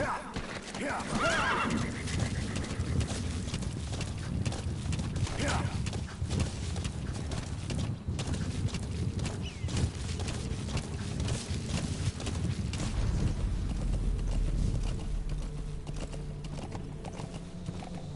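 A horse neighs and whinnies over steady clip-clopping hooves in Metal Gear Solid V, loud and continuous, with a busy game mix of effects throughout.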